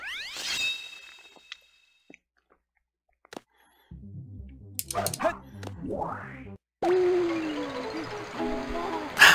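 A skeleton dog in the video game Sonic Adventure 2 gives a few short, sharp game barks and yips that alternate with quiet gaps, followed by bursts of other game sound effects.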